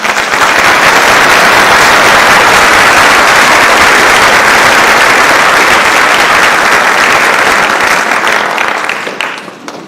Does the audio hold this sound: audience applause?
yes